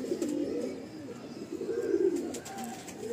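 Close, soft throaty cooing from white Mundi pigeons, repeated in low rolling bursts with no talk.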